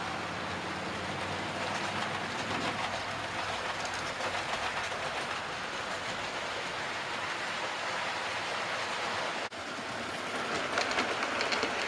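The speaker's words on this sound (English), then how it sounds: "Up the incline she goes." A model railway train climbs an incline on a loft layout, a steady, close rolling rumble with faint clickety-clack that runs on for several seconds, briefly dipping near the end.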